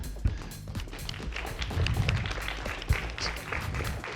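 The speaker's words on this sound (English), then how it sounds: "So a round of applause for them." Applause for the tournament partner at an esports grand final in Stara Zagora, a soft, diffuse patter of clapping from a small crowd with some low rumble and a couple of sharper thumps.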